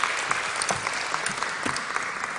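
Steady, dense clapping from a church congregation welcoming the pastor's wife as she comes forward, a full room of hands applauding evenly without pause or speech.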